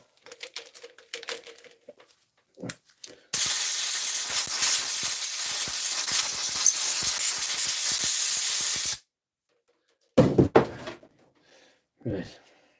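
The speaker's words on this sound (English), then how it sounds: "A bit of electrical cleaner in that. Give it another little blow." A can of electrical cleaner sprays a steady hiss for several seconds while working on a DeWalt or Makita power tool, followed by short sharp bursts of blown air, with handling clicks around it.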